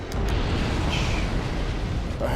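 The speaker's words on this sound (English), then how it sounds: "So she's doing her explosion already." A boss unleashes an explosion attack in the Dark Souls video game, a loud, sustained rumbling roar of fire and blast noise that fills the whole stretch.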